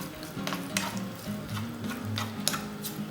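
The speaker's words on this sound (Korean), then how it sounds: "간장 2테이블스푼, 맛술 1테이블스푼, 설탕 1테이블스푼 넣고 약불에서 한 번 더 볶아주세요" Eggplant stir-frying over low heat in a pan with soy sauce, mirin and sugar, a steady close sizzle broken by repeated scraping stirs of a utensil against the pan, with no talk.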